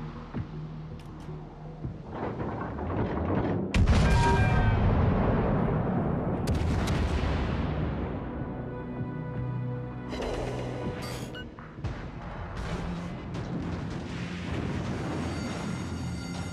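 Heavy naval gunfire from a Giulio Cesare battleship in World of Warships Legends, several booming salvos with ringing decays and a big blast near the middle, over a constant mechanical hum.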